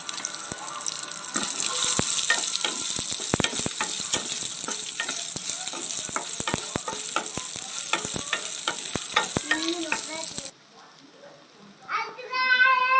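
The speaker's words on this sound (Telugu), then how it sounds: "ఒక చిన్న సైజు ఆనియన్ని ఇలా ముక్కలుగా కట్ చేసుకొని వేసుకొని వేపుకోవాలి" Chopped small onion frying in oil with dried red chillies, a bright continuous sizzle crackling with stirring clicks, cutting to a quieter stretch near the end.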